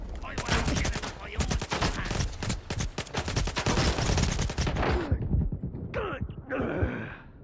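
Rapid bursts of automatic gunfire in the video game STALKER 2, dense and loud for about five seconds, then stopping as a man groans and a voice speaks.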